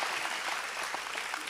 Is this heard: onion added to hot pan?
no